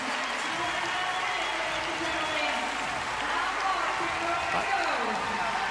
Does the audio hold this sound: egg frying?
no